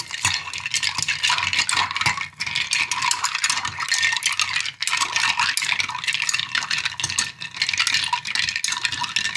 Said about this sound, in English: And we'll stir this approximately 30 seconds.